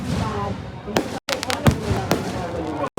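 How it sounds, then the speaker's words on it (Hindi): Fireworks at the Dewa mela fair go off in sharp, loud bangs, several bursts over a few seconds, with crowd noise and voices underneath. "आतिशबाजी का उद्घाटन हो रहा था।"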